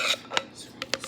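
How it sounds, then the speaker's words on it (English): Key lime icebox pie filling scraped from a bowl, a few short raspy scrapes with pauses between, close and fairly quiet, no talking. "scrape out some more"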